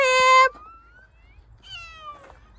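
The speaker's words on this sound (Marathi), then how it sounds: "मांजर बी आहे वाटतं" A cat meows several times: a loud, close, bright meow at the start, then fainter drawn-out mewing calls after a pause, with no one talking.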